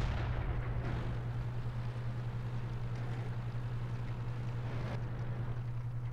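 Muffled cannon fire and rumbling engine noise from an M18 Hellcat tank destroyer in World of Tanks, with a low steady drone and broad booming bursts near the start and around the five-second mark, all fairly quiet.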